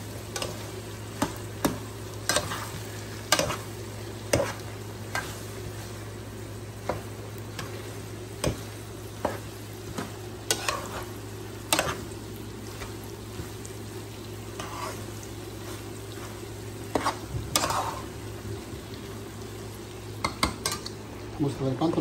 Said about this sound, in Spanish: Para que se pueda revolver nuestro arrocito.